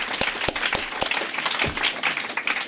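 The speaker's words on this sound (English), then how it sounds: "Let's give the people with commitments an applause." Audience applause at an Alcoholics Anonymous meeting at the Marina Center in Culver City, California: a steady wash of many hands clapping, with a few sharp, louder claps standing out near the front. It keeps a fairly even level throughout, with no talking over it.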